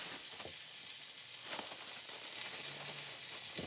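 Beef searing in a hot pan gives off a steady, fairly quiet sizzle and hiss with faint crackles and a few sharper pops, continuing evenly throughout.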